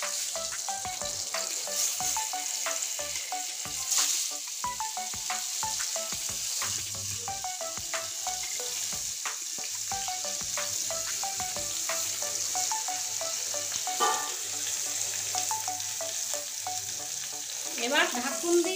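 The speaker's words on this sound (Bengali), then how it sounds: "লবণ হলুদ মাখানো বেগুনটা এখন ভেজে নেব" Eggplant coated in salt and turmeric frying in hot oil, a dense, steady crackling sizzle with scattered sharp pops, close and continuous, with no talk.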